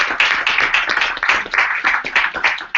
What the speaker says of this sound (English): I want to make big applause